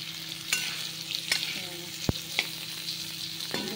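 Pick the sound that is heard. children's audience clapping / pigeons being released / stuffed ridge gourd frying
stuffed ridge gourd frying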